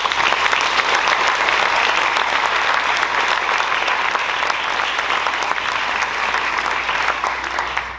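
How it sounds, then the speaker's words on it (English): A round of applause from the audience at a high school senior scholarship ceremony, dense and steady clapping that fills the room for eight seconds before easing slightly at the end. "Let's give them a round of applause."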